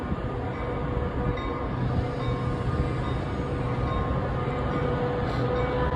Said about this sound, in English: You don't normally see metros that short anymore.